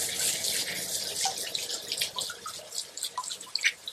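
Water runs from a tap, rinsing PVA slime off a hydro-dipped part. The close, steady splashing is broken by drips and spatters.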